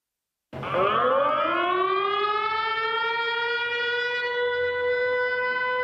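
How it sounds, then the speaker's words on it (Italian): A Ukrainian air raid siren sounds at the Venice Biennale, kicking in abruptly, its wail rising in pitch before holding a loud, steady howl. "Le sirene antiaeree ucraine risuonano alla Biennale"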